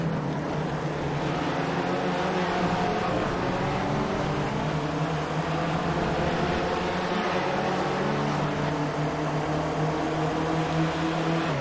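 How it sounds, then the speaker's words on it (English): Race cars in a sim-racing broadcast at Sebring, engines droning steadily and loud throughout as cars brake and pass, a continuous layered motor whine with no talk. "Jamie going on the inside and easily passing Richard under braking"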